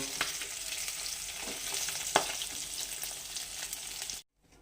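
Katla fish fries in hot oil with a steady, loud sizzle, broken by a few sharp crackles and a clatter as pieces are turned. The sound stops abruptly just before the end.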